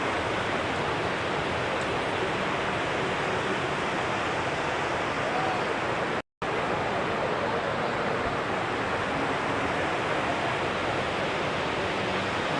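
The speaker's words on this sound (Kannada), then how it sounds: "ಚುಂಚನಕಟ್ಟೆ ವಾಟರ್ ಫಾಲ್ಸ್ ಇದು." Chunchanakatte waterfall, running low on water, gives a steady, dense rushing roar heard up close. It cuts out for a split second about halfway through.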